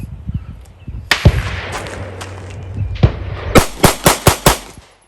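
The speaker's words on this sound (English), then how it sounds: "I'm gonna shoot fast to make sure this is not gonna fail me" A 9mm pistol firing 124 grain rounds at a shooting range: a few sharp shots, then a rapid string of about six loud, close, evenly spaced reports with short echoing tails.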